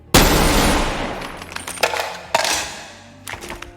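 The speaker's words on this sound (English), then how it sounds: "Got the AK reload." AK rifle reload in the VR game Bonelab: a loud metallic clatter followed by several sharp mechanical clicks and clacks of the magazine and bolt, close and without talk.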